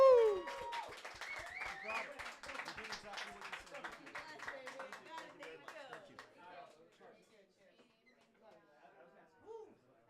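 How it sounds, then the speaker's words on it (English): A live podcast audience in Colombia breaks into clapping and applause, a strong burst at first that thins and fades over several seconds, mixed with voices and cheers. "Round of applause"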